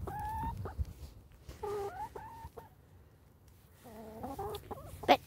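Golden Comet and Rhode Island Red hens cluck in a backyard flock, with several short bursts of tonal, pulsing calls separated by quieter stretches, close and fairly clear.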